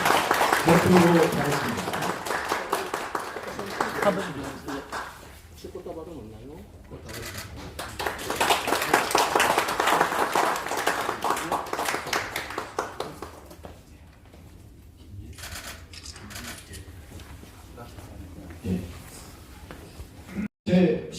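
An audience at a church education department graduation ceremony breaks into applause twice, dense clapping swelling and settling, with a speaker's voice talking over and between the bursts.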